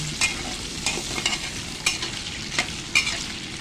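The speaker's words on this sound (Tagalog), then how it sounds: "Pinirito ko rin ang kanyang carrot saka patata." Carrots and potatoes frying in a pan for beef kaldereta: a steady close sizzle with repeated scraping stirs of a spatula against the pan at irregular intervals, no voices.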